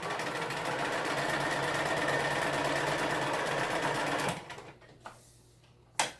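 A sewing machine running steadily in reverse stitch while reworking a Halloween costume, a close, loud rhythmic whir for about four seconds before it stops, followed by a few faint clicks and a sharp knock.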